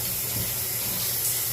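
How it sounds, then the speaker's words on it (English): Water runs and drains steadily down a bathroom sink with a slow, clogged drain, a continuous close rushing wash with no talk. "See how fast that drains."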